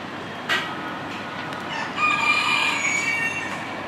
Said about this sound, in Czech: Kohout valí už snad 3 hodiny v kuse